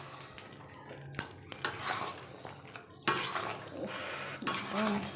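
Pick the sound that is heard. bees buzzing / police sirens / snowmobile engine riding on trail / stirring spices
stirring spices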